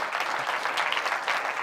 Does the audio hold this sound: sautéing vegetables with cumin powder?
no